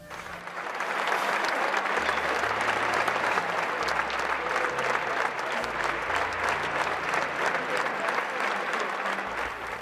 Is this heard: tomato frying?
no